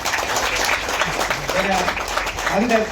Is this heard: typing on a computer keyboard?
no